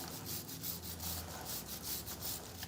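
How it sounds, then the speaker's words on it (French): Brush scrubbing a KTM SX or EXC motorcycle chain, quiet rhythmic back-and-forth scratching strokes, about a dozen in a steady cadence, close and alone. "je vais pouvoir actionner ma brosse sur la chaîne comme ça"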